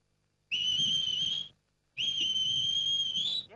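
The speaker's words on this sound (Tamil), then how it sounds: "என்ன விசில் சத்தம்?" In a Tamil comedy film scene, a high, clear whistle sounds twice. Each note is held for about a second and a half, with a short pause between them, over a quiet room background.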